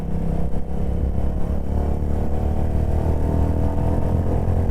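A Royal Enfield Classic 350 with the J-series engine runs steadily, its low exhaust thump and engine drone close and loud, holding an even rumble without speech.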